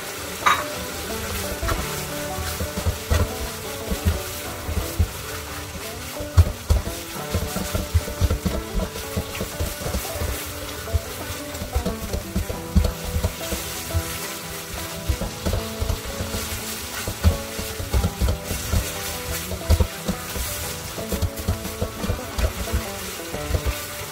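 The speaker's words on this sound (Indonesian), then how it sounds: "Lalu masukin sayur kol dan sawi." Cabbage and mustard greens stir-fried for kwetiau goreng with prawns, a steady close sizzle with irregular scraping and clanking of the spatula against the wok, continuing without speech.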